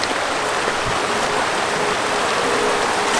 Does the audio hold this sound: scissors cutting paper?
no